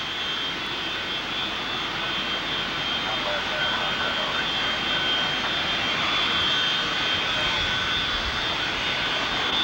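Boeing 747 jet engines at San Francisco airport, a loud steady roar and whine that holds at the same level throughout, heard from a moderate distance with no clear voices.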